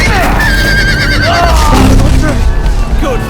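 A horse whinnies loudly in the Game of Thrones Telltale video game, its wavering neigh rising and falling over rumbling effects and a voice speaking underneath.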